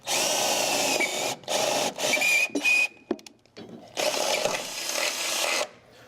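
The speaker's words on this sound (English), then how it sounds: "3/8 drill bit, that's your job" A power drill with a 3/8 bit whirs in several bursts, stopping and starting as it bores through material, loud and close with short pauses between runs.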